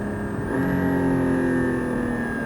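Porsche 718 Cayman GT4 on the Le Mans circuit in the rain, heard from inside as the engine pulls hard under acceleration, a loud steady tonal drone with a rising whine and no talking.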